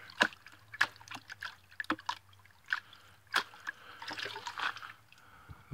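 A gold pan of black sand shaken and dipped in water, making a series of close, distinct sloshes and splashes at an uneven rhythm, then a denser swirl of trickling water, with no talk.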